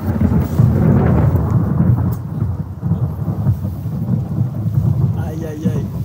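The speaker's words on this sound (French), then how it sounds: "La veille de l'ascension, petite pluie." Heavy rain drums on tarps in the Amazon rainforest while thunder rolls loudly and continuously, a dense, low storm rumble under the steady patter of rain, with no voices.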